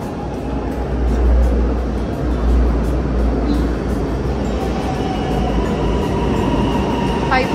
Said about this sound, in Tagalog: Tingnan kami ng train ngayon.